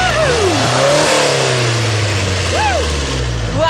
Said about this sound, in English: he's taking me for an 80-mile-an-hour spin